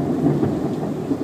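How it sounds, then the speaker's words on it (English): Rolling thunder from a storm strong enough to shake a house rumbles low and continuously, with rain noise beneath it. "It's like rolling thunder."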